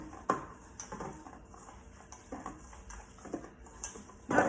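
Meatball meat being mixed by hand in a bowl, soft squelching presses and light clinks against the bowl recurring in an irregular rhythm, fairly quiet and close, with no talk.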